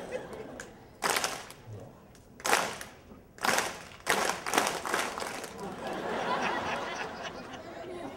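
Several sharp bursts of clapping ring out loud and close at irregular intervals, with people talking and laughing in between and a busier clatter of hands toward the end.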